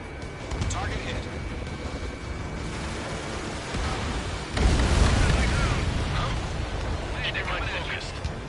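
An enemy transport blows up in a console video game, a heavy rumbling blast that swells midway and rolls on under steady noisy battle ambience, with faint voices over it.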